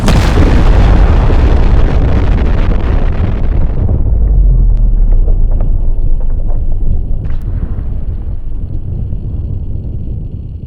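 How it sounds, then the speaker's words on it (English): Airstrike blasts in the naval combat game Sea Power, a loud sustained roar of explosions that starts broadband and settles into a heavy low rumble with scattered sharper pops toward the end. "Airstrike complete."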